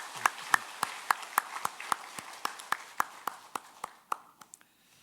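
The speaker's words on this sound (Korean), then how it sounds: "우리 위로와 격려의 축복의 박수를 드립니다." Church congregation clapping together in slow, even rhythmic claps, about a dozen sharp beats that grow quicker and thinner near the end before stopping, heard in a reverberant room.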